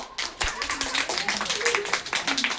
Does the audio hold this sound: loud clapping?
yes